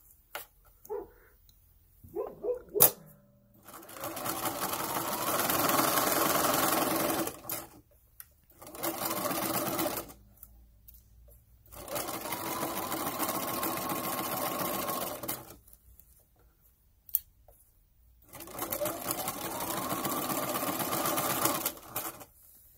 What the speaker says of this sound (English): So here's where we're going to sew that curve off, that corner off.